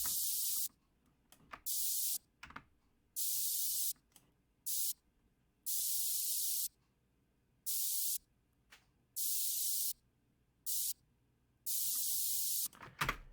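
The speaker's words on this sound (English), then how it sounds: "That would be our spray sound." A synthesized spray effect built from white noise sounds as a series of bright, hissing aerosol-like bursts, each lasting about a second with short silent gaps between them, loud and crisp with no voices.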